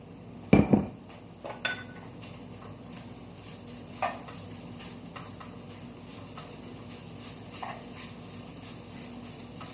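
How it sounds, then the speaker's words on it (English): Already-cooked chicken sizzles softly in a pan while a utensil scrapes and clinks against the metal a few times, with the steady frying hiss running underneath. "So you can hear that sizzling."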